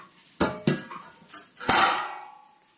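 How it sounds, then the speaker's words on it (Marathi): Metal lid set down on a cooking pot for steamed rice, giving two sharp clanks followed by a rattling clatter and a ringing settle, close and loud with no talk. "आता फक्त त्याच्यावरती असं झाकण ठेवायचं आहे घट्ट बघा"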